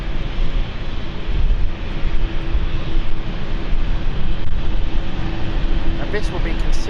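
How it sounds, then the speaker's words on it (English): A Lufthansa Regional passenger jet bound for Frankfurt roars close by at London City Airport, a loud, constant low engine rumble and broadband rush that holds steady throughout. "Lufthansa flight is so close now. So this is our Frankfurt flight of Lufthansa Regional."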